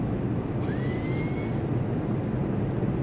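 Jet aircraft out at the end of the Edwards AFB runway, a steady loud broadband roar filling the whole clip with a faint rising whine near the start.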